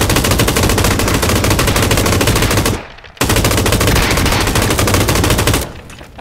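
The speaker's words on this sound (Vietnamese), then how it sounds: "Thằng địch bắn con ta, bắn đi" PUBG automatic gunfire rattles in loud, rapid sustained bursts, with one long stream, a brief pause near the middle, then another long burst that cuts off just before the end.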